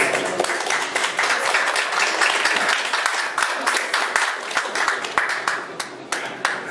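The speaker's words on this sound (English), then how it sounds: "Thank you for your kind applause." Conference audience applause following a talk at a 2018 event in Bihać, a steady dense patter of clapping filling the room for several seconds, tapering toward the end.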